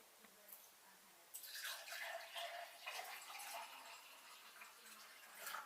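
Distilled water poured into a container starts after a quiet moment as a bright, splashy trickle that fills for a few seconds, then tapers off, faint and close.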